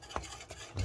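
A whisk stirs Dijon and English mustard into a thick cheese sauce, a cheesy béchamel for croque monsieur. It gives a few soft, close scraping strokes against the pan that grow a little louder at the end, with no talk.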